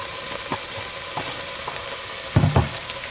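Chopped garlic and onion sauté in a pan with a steady broadband sizzle, broken by a few scraping stirs and a louder clatter of the utensil near the end.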